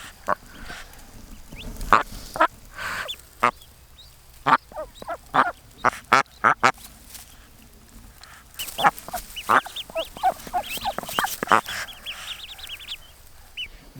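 Mother ducks in a garden pen with newly hatched ducklings give loud, close quacks and honking calls in irregular bursts, with softer chatter and peeping between them and a flurry of rapid calls near the end.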